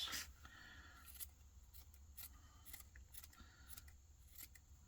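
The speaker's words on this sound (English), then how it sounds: "So let's just kind of jaggedly cut that." Scissors jaggedly cutting paper for a grungy policy envelope, a series of crisp, close snips at an uneven rhythm against a quiet background.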